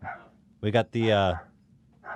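A dog barking near the door as a delivery driver arrives, two quick loud barks followed by a longer howling bark, close by with short pauses between.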